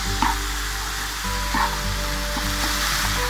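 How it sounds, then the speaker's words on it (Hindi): Onions caramelizing in a dish over high heat, a continuous close frying sizzle with occasional stirring clinks and a low steady hum beneath; no talking. "अनियन हमारे कैरमलाइज होते जा रहे हैं डिश में"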